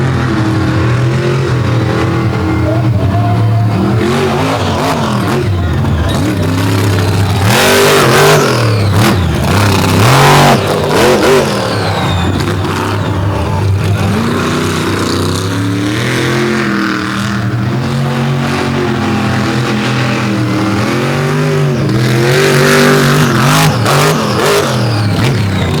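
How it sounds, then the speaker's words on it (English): Supercharged pulling-truck engine at a truck-pull event, loud and sustained with a steady blower whine over a deep rumble, revving up and down throughout without any talk. "Crisp the tune is on this engine, that blower whine."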